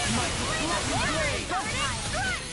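Water spell attack from the Tales of Arise video game, a rushing, splashing burst of magical water sloshing and surging loudly over busy battle effects, with a character's voice shouting over it.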